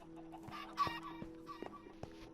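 Several chickens cluck in the Minecraft video game, faint and somewhat distant, with a few scattered short clucks over a quiet background and no voices.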